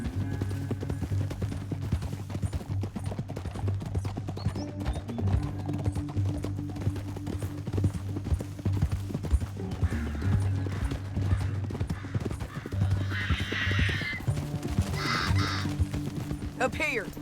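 Horse hooves gallop in Red Dead Redemption 2 in a steady, rhythmic clip-clop close by, with crows cawing and occasional higher calls layered over it.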